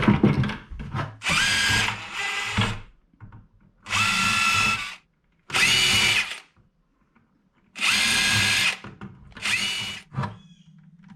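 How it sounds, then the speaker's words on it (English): A power drill bores holes into a plastic bucket in repeated loud whirring bursts of about a second each, separated by short pauses and faint handling noise. "So I'm going to go ahead and drill the rest of the holes."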